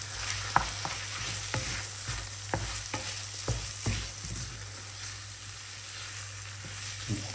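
Egg frying with pork belly in a pan, stirred with a utensil: a continuous sizzle broken by a series of sharp, irregular scrapes and taps against the pan over several seconds, close and fairly quiet, with no talking.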